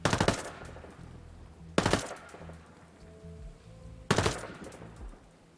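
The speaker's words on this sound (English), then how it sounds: "So here is a short little burst with no input from the mouse at all." Three short submachine gun bursts from Ghost Recon Breakpoint, fired with no mouse input, each a sharp loud rattle with gaps of quiet between them and a faint tone in the pause.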